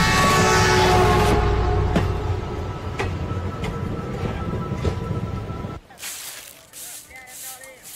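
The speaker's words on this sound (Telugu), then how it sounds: "ఈ ట్రైన్ ఎక్కడికి వెళ్తుంది?" A passenger train running, heard as a loud steady rumble and hiss with periodic clacks for about six seconds, then cutting abruptly to quieter ambience with faint voices.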